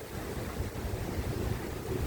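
Strong wind blows over a river, a steady broadband rush with low buffeting rumble against the microphone, constant and loud throughout with no voices.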